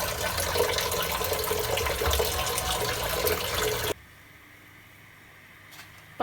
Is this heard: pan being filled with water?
yes